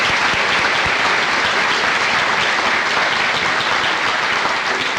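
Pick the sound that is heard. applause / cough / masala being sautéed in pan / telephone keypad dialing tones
applause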